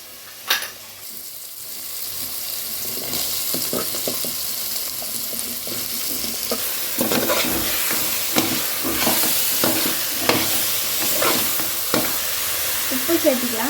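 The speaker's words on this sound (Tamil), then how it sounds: "நம்ம நறுக்கி வச்சுக்கிற காளானை சேர்த்திக்கலாம்." Chopped mushrooms sizzling in a pan while being stirred for a biryani, with a steady loud frying hiss and regular scraping strokes of the spoon.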